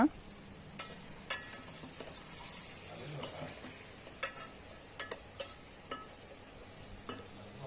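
Chopped beans and carrots stir-frying in hot oil for vegetable uppittu, a soft steady sizzle with sharp intermittent scrapes and clinks of a spoon against the pan.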